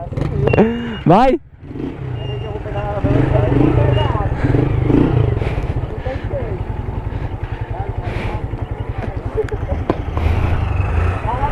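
A motorcycle loaded with a top box rumbles and clatters as it rides down a staircase at a slow, jolting pace, with a man calling out briefly near the start.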